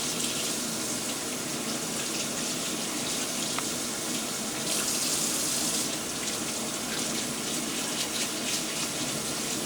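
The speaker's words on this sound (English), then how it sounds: "You want to really rinse good until the water's clear." Water runs steadily from a sink tap as makeup brushes are rinsed clean of soap, a continuous close hiss and splash with a brief surge midway.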